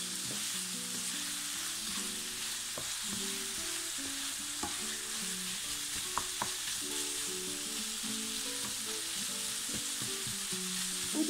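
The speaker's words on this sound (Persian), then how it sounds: "مواد رو تفت کنید." Meat and onion sautéing in a pan with black pepper and turmeric for adas polo, a steady close sizzle with occasional clinks and scrapes of stirring throughout, no voices.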